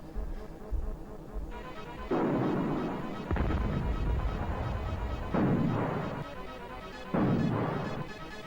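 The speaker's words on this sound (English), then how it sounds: "we're just going to go ahead and take this free shot at their flag tank" In the strategy video game Super Conflict, tank cannon shots land as four heavy booming blasts at uneven intervals over a quiet game background.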